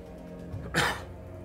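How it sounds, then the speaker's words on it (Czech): A single short, harsh cough bursts out near the middle over a quiet steady background hum, close and brief, with no talking around it. "A ještě tady do toho akorát kašlu."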